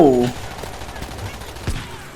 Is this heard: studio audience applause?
no